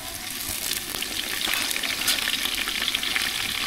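Garlic paste hits deep-browned fried onions in a pan for chicken dum biryani, a loud, continuous close-up sizzle with faint crackles throughout.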